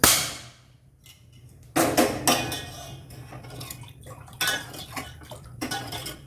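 A metal spoon clanks and scrapes around a pan of thin sugar syrup for potato gulab jamun on a gas stove, in irregular bursts of stirring over a low background hum.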